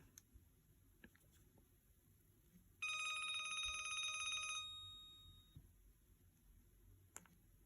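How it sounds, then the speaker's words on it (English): An LG Voyager phone plays a bright electronic ringtone, a sustained tonal burst lasting about two seconds that then fades out, heard alone against quiet room noise with a few faint clicks. "play some ringtones if you guys would like"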